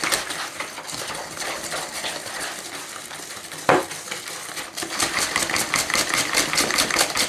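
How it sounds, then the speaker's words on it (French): A whisk beats Pain de Gênes batter in a bowl, giving a rapid, steady run of metallic clinks and scrapes that picks up into a faster, busier rhythm near the end. "On mélange bien pour que ça blanchisse un petit peu."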